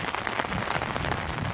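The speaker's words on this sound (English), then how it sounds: "It's been raining here for about 3 days straight." Heavy rain pours onto impervious pavement at a new development in San Antonio, Texas, a dense, even, close hiss of countless drops with no pauses.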